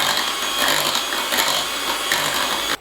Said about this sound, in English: So I'm going to whisk it through again.